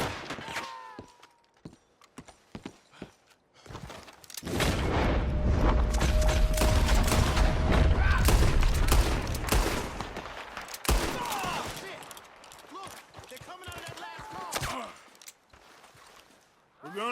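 A Red Dead Redemption 2 story-mode shootout crackles with rapid bursts of gunfire and booming shots, dense and loud through the middle, thinning to scattered cracks, with shouting voices mixed in.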